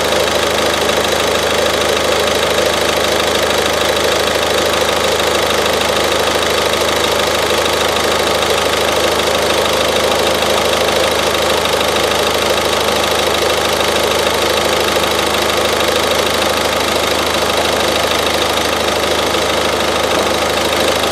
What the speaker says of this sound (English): The engine has started very, very easily, and I'm going to leave for a bit until the whole air from the fuel system